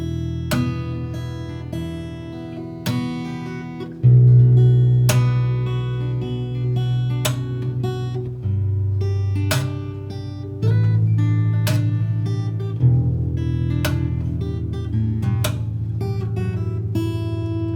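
A harp guitar's plucked strings ring out in a steady chord progression, with deep sustained bass notes shifting under bright picked melody, close and clear.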